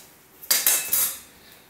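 A metal colander and pans clatter into a kitchen sink while pasta is being cooked, making three sharp, loud metallic crashes close by that ring briefly and fade.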